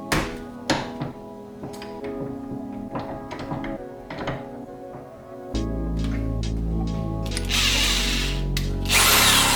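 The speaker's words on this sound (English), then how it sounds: "I'm gonna go ahead and drill these holes" Power drill boring holes into the body of a Mk6 Golf GTD while a harness bar is fitted, heard as short, separated bursts of whine and knocks, then a long, steady, loud run toward the end.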